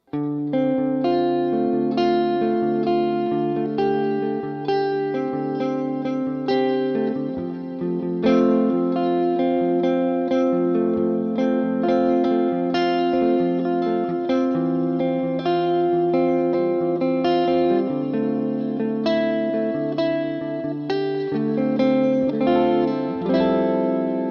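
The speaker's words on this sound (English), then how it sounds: "turn the delay back on and we put a little bit of reverb. I have the shimmer right here" Electric guitar played through a modelled amp in AmpliTube 5, with delay and shimmer reverb adding echoing repeats and a bright, sustained wash behind sustained chords and picked notes, loud and continuous throughout without any voices.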